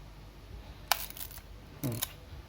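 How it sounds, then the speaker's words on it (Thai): The stiff back cover of a Yashica Electro 35 GSN rangefinder camera is pulled open, giving two sharp, close plastic-and-metal clacks about a second apart over quiet room tone. "ดึงเปิดฝาหลังเนี่ยอาจจะยากนิดนึงนะครับ"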